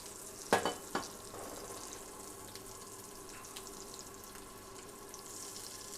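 Thin pork escalopes fry in a pan with a steady low sizzle, broken early on by a few sharp clatters and scrapes as they are handled or stirred; no voices.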